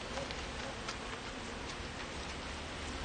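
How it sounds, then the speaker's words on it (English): Honey bees swarm thickly over a frame from a colony being split, producing a steady, dense hum with a hissy texture that holds at an even level throughout, with no talking. "there are a ton of bees on here"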